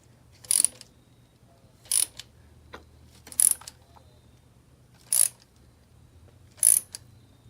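A ratchet snugs down spark plugs on a 2014 Toyota Camry engine. Five short, sharp bursts of ratcheting clicks come at roughly even intervals, close up, over a faint low hum.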